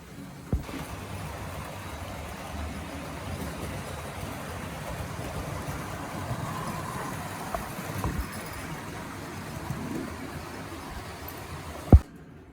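A model Taurus locomotive runs along a model railway track with a steady, low motor whir and rail rumble at moderate level, and a sharp click near the end.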